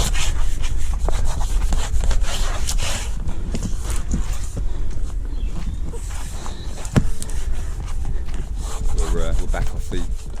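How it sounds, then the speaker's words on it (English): Hands pressing and rubbing material down onto a car door card for a Datsun 720, a steady close scraping and rubbing with repeated strokes, plus some light knocks. "So I just started pressing it down and rubbing it and getting some heat into it."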